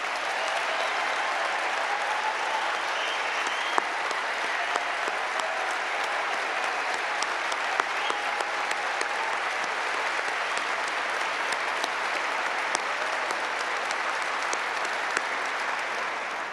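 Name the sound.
audience applause for police and fire chiefs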